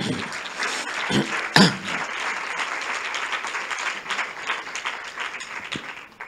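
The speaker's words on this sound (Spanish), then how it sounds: "Un aplauso también, por favor." Audience applause at a conference, a sustained round of clapping from a seated crowd with a couple of sharper individual claps near the start, tapering slightly toward the end.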